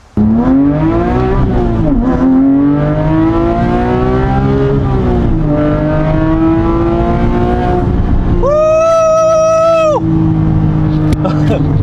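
A 2010 Porsche 997 GT3 RS engine revs loud and close, its pitch climbing and falling through several pulls with a high sustained wail near the end, under excited talking.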